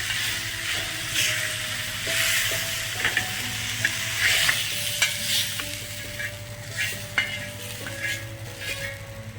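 Masala spices for Punjabi rajma roast in a pan, sizzling steadily while a spoon stirs and scrapes in irregular, close strokes; no one speaks.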